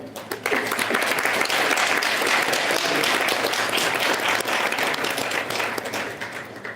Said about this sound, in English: round of applause for that for him.